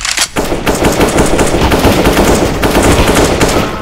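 Loud, sustained rapid AK-47 automatic fire in Counter-Strike: Global Offensive, continuous close bursts filling the whole stretch with no talking over them.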